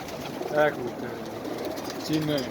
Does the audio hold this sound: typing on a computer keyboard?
no